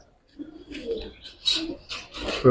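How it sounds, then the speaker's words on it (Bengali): Fighter pigeons cooing in a loft, several soft low coos and short calls at close range, with faint rustling and no talk. "অনেক সুন্দর কবুতর অনেক সুন্দর কবুতর"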